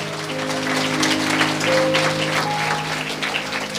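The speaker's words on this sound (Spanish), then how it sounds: "Fuerte aplausos al Señor." A church congregation applauds together in a dense, continuous wash of clapping that holds steady throughout, with a faint sustained musical tone underneath.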